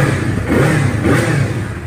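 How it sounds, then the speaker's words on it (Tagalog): A Bristol Kove Invictus 400RR inline-twin motorcycle engine on its stock pipe revs loudly up close, a rough, throbbing roar holding steady with slight swells. "So, ito ang tunog ng Bristol Invictus 400."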